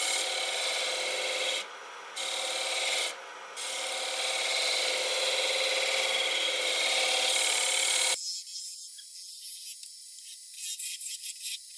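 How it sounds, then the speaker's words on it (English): A hand scraper cuts a hollow wooden egg spinning on a lathe. It makes a steady, close, rasping scrape with two brief breaks, then turns thinner and lighter for the last few seconds. "Here's a nice little scraper."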